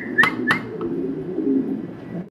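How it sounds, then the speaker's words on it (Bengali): Black fillback pigeons coo softly in a low, rolling murmur at close range, with a couple of sharp clicks near the start. "ব্ল্যাক কালারের ফিলব্যাক কবুতর দর্শক দেখতে পারতেছেন"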